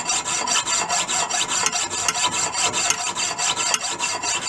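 Small hand saw cutting through a piece of silver steel for making screws, a steady close rasping with regular back-and-forth strokes throughout, no talking.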